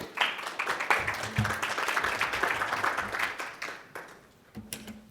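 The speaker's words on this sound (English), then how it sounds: "please give them a round of applause" Applause from a conference audience for a panel moderator and speakers at a discussion on AI in medical technology, dense clapping held steady for several seconds and then thinning out near the end.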